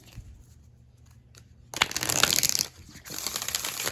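Quiet rustling at first, then a burst of tarot card shuffling: a riffle of crisp flapping and crinkling from a slightly stiff new oracle deck that pauses briefly and resumes, close by.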